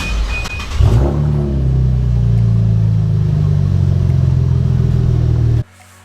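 Chevrolet Camaro engine starting up: a brief starter whir, then a loud catch into a deep, steady idle rumble close by that runs on until it cuts off abruptly near the end.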